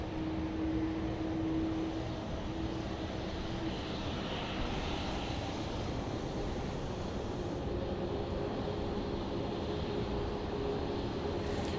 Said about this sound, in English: It's a MAX 8 going to Houston Hobby Airport.